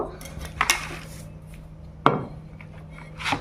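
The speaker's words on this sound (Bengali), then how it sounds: "তো প্রথমে আমি কচুটা কেটে নেব" A knife works through a large taro on a board: three sharp, separate cutting knocks spaced a second or more apart, each with a brief scrape, close and fairly loud with quiet between.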